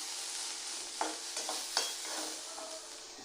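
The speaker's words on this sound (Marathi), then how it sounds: "इथे लसणाच्या पाकळ्या घेतल्या, त्या आपण कांद्यामध्ये टाकून घेऊया. त्याला थोडंसं भाजून घेऊया." Onion and garlic cloves roasting in a pan, a gentle sizzle under a few distinct spoon scrapes and taps against the pan, close up, with no voices.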